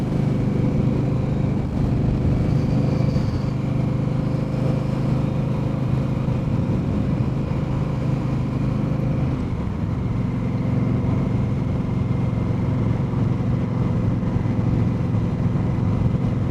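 An 1100cc Indian Scout Bobber motorcycle engine hums smoothly at a steady cruise. The low drone is mixed with road and wind noise, continuous and even throughout, and no voices are heard.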